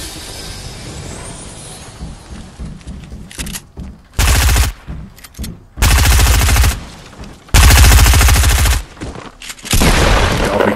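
Fortnite gunfire: dense bursts of loud automatic shots arriving in several long volleys, separated by quieter game noise and scattered single shots.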